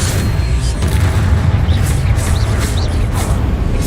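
Confringo explosive spell blasts in Hogwarts Legacy, low heavy booms rumbling continuously and loudly with scattered sharper crackles on top.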